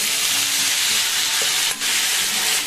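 Washed, drained spring onion stalks go into a pan with softened potato, brinjal and tomato for a prawn chorchori, bringing loud close sizzling and stirring scrapes with a brief clatter near the end, no voices.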